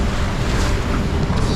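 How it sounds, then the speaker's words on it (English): Choppy open-ocean waves and steady wind noise surround a sailing boat running under a gennaker near Iceland, a loud continuous wash of surf and gusting air with no talk. "quite choppy waves."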